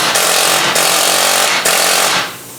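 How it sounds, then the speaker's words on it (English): A pneumatic air hammer with a chisel tip pounds loudly and up close in three rapid bursts to break a 2011 Saab 9-4x axle free, with very short pauses between bursts. "with the chisel tip on the air hammer just give this a little bit of a, you know, a little bit of a break free"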